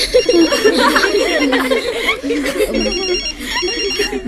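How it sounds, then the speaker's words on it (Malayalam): A mobile ringtone plays a bright, repeating melody, loud and close, while voices and light laughter sound over it. "whose phone is that"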